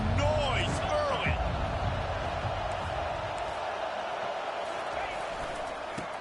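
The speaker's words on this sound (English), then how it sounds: "This crowd bringing the energy and noise early." Steady stadium crowd roar fills a College Football 25 game, a dense, continuous wash of noise from the stands with brief whistle-like tones early on and a commentator's voice over it.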